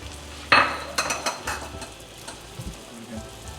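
Teriyaki salmon frying in a pan over low to medium heat, a close hiss and sizzle with a sharp clatter at the start and a few lighter knocks and crackles that settle into a quieter steady fry.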